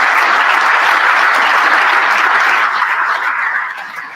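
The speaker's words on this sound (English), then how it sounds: "I hope that's not the last bit of applause that I get" A large conference audience at a security gathering bursts into sustained, dense applause, loud and even throughout before tapering off toward the end.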